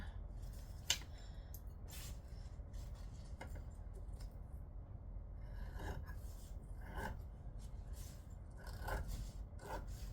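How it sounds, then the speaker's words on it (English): Scissors trimming excess fabric along a seam allowance, a rasping, rubbing cut with scattered sharp snips and scrapes over a steady low hum, close by, with no talking. "anything sitting out of the seam allowance, we can just trim it down"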